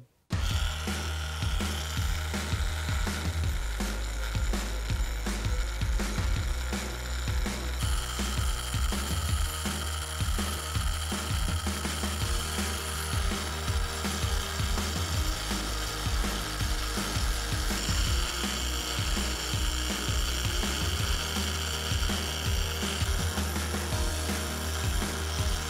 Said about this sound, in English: I'm going to switch it up to this 2-inch angle grinder, same wheel